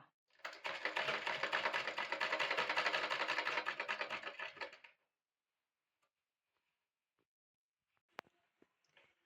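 Sewing machine stitching the hem of an umbrella skirt, a loud, fast, steady rattling run lasting several seconds that stops abruptly, followed by near silence and a couple of faint clicks.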